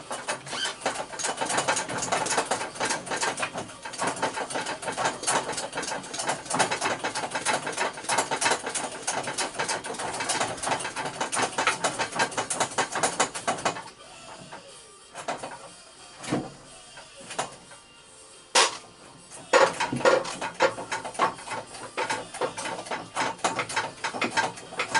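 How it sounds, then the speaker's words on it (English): Hydraulic press forcing ball bearings out of a Bosch GEX 125AC sander, a dense rapid mechanical ratcheting for the first half, then sparser creaks, clicks and pressing strains with a sharp pop. "And now I will put it on a pneumatic press, hydraulic press."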